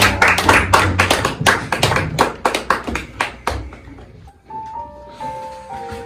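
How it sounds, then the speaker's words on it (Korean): A church student-service congregation claps together in a dense, lively burst for a few seconds, then the applause dies away and a soft sustained keyboard tone is left ringing alone. "하나님께 사랑의 하나님께 영광의 박수를 드립니다"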